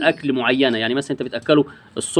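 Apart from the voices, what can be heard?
No distinct noise like a dog, phone or traffic.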